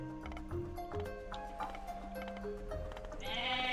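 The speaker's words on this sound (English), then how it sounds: "These are goats, not sheep." Goats bleating in the video game Age of Mythology, several short bleats scattered over steady game music and ambience, with a brighter burst of activity near the end.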